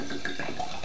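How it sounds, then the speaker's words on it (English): Smirnoff Ice poured into a glass for a Badger cocktail, a brief steady close trickle of liquid lasting under a second. "you pour a glass of Smirnoff Ice"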